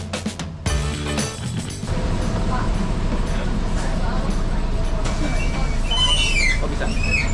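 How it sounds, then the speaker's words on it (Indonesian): A Royal Trans city bus pulls over at a roadside stop in Pantai Indah Kapuk, loud and close, its engine roaring steadily, with rising squeals toward the end. "tak disangka ada bus Royal Trans yang menepi ke halte"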